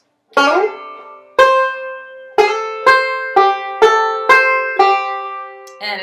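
Banjo playing the first phrase of the B part of Kansas City Railroad Blues, a sharp opening pluck followed by a steady run of seven ringing, bright notes and chords, close and solo with no talk.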